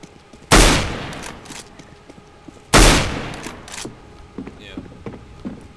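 Two loud gunshot blasts in the video game Counter-Strike, each sharp and booming with a decaying tail, a couple of seconds apart, followed by faint clicks and shuffling game sounds.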